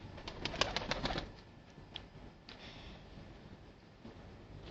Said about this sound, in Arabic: عندنا هنا طيور